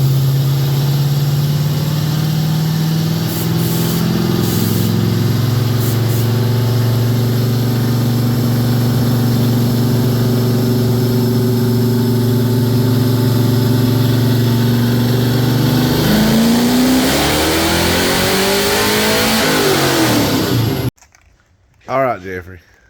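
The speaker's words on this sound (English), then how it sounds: "All right, Jeffrey, we got your car dynoed." A nitrous-fed car engine screams on a chassis dyno, holding a loud, steady high-rpm drone that climbs in pitch through a long pull, then chops off abruptly, leaving brief faint background noise.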